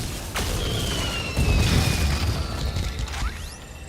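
A fireworks weapon fires in Call of Duty: Infinite Warfare Zombies, launching whistling rockets that streak off and burst in loud booms and crackles over busy game noise.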